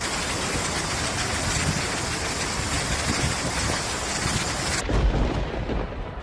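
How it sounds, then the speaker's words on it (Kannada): Dense, roaring downpour from Cyclone Montha fills the air with a loud, broad rushing wash and low rumbles, continuing steadily before shifting to a duller, heavier roar near the end. "ಮೊಂತಾ ಭಾರೀ ಮಳೆಯನ್ನೇ ಸುರಿಸುತ್ತಿದೆ"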